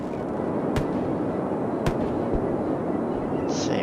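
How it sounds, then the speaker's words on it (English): Fireworks going off in a park in the video game Cities: Skylines, with two sharp cracks standing out over a steady, dense roar of crackling noise. "So, now in the park setting off fireworks."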